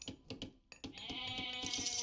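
Sheep bleat in a strategy video game, a short wavering bleat heard amid rapid clicking and tapping, with a brighter hissing texture toward the end.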